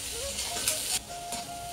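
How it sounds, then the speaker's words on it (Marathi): Spices crackling and sizzling in hot oil in a kadhai, a steady close hiss with faint pops, heard alone without talk. "तडतडा वाजते."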